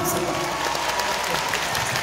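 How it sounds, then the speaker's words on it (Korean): Concert audience applauding at the opening of a Mister Trot national tour trot concert in Seoul, a dense, steady wash of clapping and crowd noise filling the whole stretch at fairly loud level. "박수를 쳐주세요."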